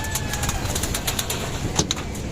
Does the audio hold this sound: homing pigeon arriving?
yes